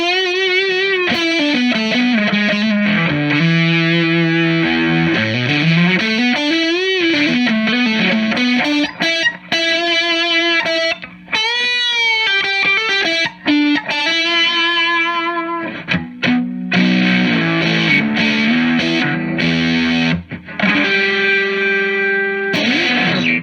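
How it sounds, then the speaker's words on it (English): Electric guitar played through an AFF silicon fuzz pedal, a high-gain, bright distorted tone with sustained notes, bends and slides, loud and continuous without pauses. "This silicon one is much higher gain."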